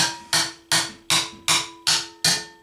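Steady hammering on steel atop a homemade solid steel anvil, seven evenly spaced clanging hits with bright ringing tails, loud and close with no speech.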